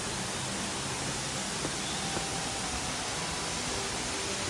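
Waterfall dropping from a height on the Madhmaheshwar trek in the Himalaya, a dense steady roar of falling water that fills the whole stretch, loud and unbroken with no voices.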